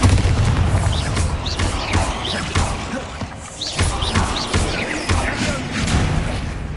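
Bombarda explosion spell cast in the Hogwarts Legacy video game, a series of heavy thumping blasts and booms spread irregularly over several seconds, close and loud, with brief voice fragments in the mix.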